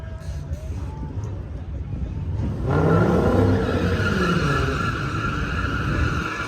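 Cars run on a quarter-mile drag strip, with a distant engine roar and tire noise that swells loudly about halfway through and stays strong, under a commentator's voice.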